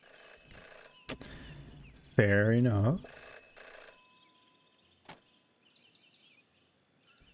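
A phone booth telephone in the video game Jenny LeClue gives one loud, trilling electronic ring burst lasting under a second, with soft clicks before and after and a brief line of speech nearby.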